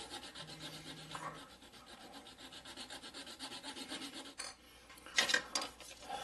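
A plastic part from a Hasegawa Maschinen Krieger Falke model kit is sanded down by hand, giving close, soft scratchy rubbing strokes followed by a couple of sharper scrapes toward the end, with no voices.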